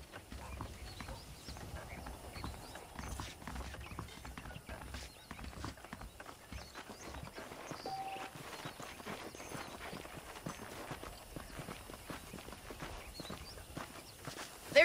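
Steady clip-clop of horse hooves at a walking pace in the video game Red Dead Redemption, fairly close, with a faint whinny and light mechanical rattles in the background.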